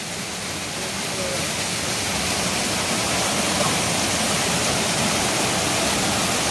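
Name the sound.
waterfall, Bodakonda Water Falls near Hyderabad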